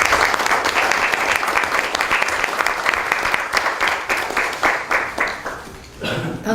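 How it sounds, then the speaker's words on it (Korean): Sustained applause from a seated audience at a Democratic Party supreme council meeting, dense and steady for about five seconds before thinning into scattered claps and fading out near the end. "박수 한번 보내주시기 바랍니다"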